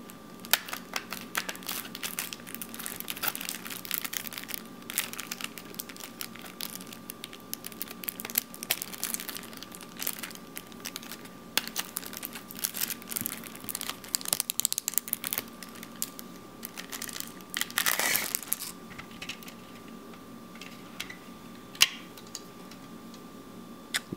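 Sealed Windows 8.1 Commemorative Pack packaging being opened, giving steady close crinkling, tearing and ticking rustles of plastic and cardboard throughout, with a louder crinkly burst near the end and no talk.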